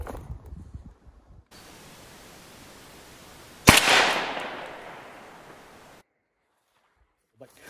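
A single loud shot from a Stevens Model 301 .410 single-shot youth shotgun firing Remington 7.5 shot at an outdoor range, a sharp crack followed by a fading rumble of echo, with a voice heard faintly before it.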